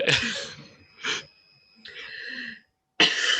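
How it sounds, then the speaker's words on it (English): A few harsh, raspy coughs up close, separated by short pauses, with a sudden loud cough bursting in at the end. "think I'm still going to cough, actually."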